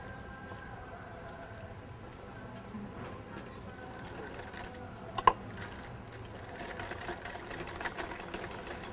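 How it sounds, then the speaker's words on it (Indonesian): A sewing machine stitches straight seams about 1 cm apart on a bag made from plastic waste, its steady low mechanical whir running continuously at moderate distance with a sharp click partway through. "Kita mulai menjahitnya"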